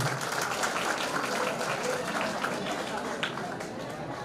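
An audience claps steadily throughout a farewell ceremony at a police camp, producing a dense, even wash of applause with no break.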